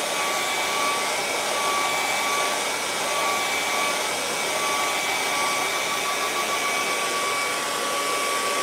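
A hair dryer blows steadily at close range for the whole stretch, drying a layer of acrylic paint on a sunset canvas, a continuous broadband whoosh with a faint steady whine and no talking.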